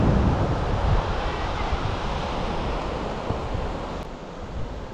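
Steady roar of surf washing onto the empty beach at Kuala Belait, Brunei, broad and continuous, with wind buffeting the microphone throughout.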